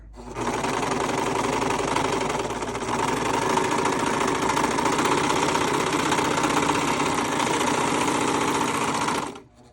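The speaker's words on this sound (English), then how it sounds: "let's take this over to the serger" Serger overlock sewing machine stitching fabric for boxer-briefs, a loud, close, steady mechanical whir running continuously for about nine seconds before stopping, with no talk.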